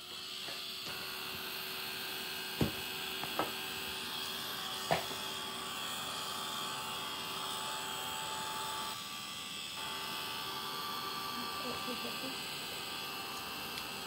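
A heat tool drying an art journal page gives a steady, loud whirring blow that runs the whole time, with a few sharp clicks early on.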